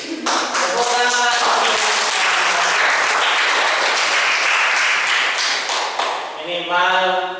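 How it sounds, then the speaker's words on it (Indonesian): A classroom of students claps together in a loud, dense burst that lasts several seconds, with voices briefly heard at the start and the end. "Tepuk tangan."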